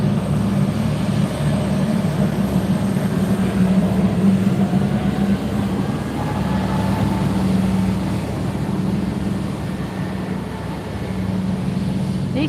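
A Douglas DC-3 propeller airplane passes with a loud, steady droning engine hum that swells and eases slightly over several seconds, and no voices.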